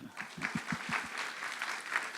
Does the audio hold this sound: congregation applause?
yes